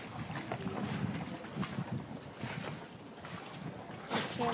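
A boat glides along a Venice canal with steady wind and water noise around the hull, a continuous moderate rush with occasional gusts and no voices.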